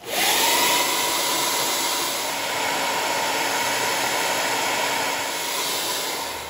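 A blow dryer melting wax into a leather axe sheath runs steadily up close, a continuous airy roar that holds the same level throughout.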